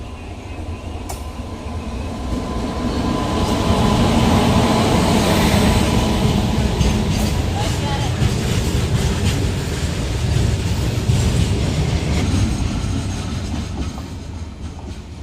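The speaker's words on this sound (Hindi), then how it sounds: "गुड्स ट्रेन से क्रॉसिंग मिलने के बाद finally Gondia Nainpur DEMU special से हमारी क्रॉसिंग होने जा रही है।" The 22174 Jabalpur–Chanda Fort Superfast Express runs on a single line, crossing a Gondia–Nainpur DEMU special near Charegaon, producing a loud, steady rumble and rushing roar with clickety-clack wheel beats throughout.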